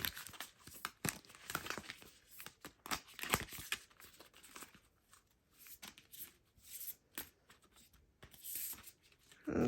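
Close-up papery riffling and flicking of a tarot card deck being shuffled, in irregular bursts of rustling and soft slaps, with no talking.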